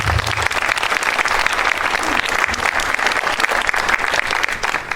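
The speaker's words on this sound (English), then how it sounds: "One more round of applause, Paul." A loud, sustained round of applause for presenters at a Declaration Day program on July 4, 2024, with many hands clapping densely and evenly throughout.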